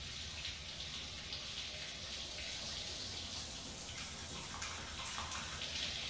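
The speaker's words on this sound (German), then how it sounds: "Aber einfach eine Runde duschen." Shower water runs in the horror video game Outlast, a steady, even hiss of spray that continues without a break at a fairly low level.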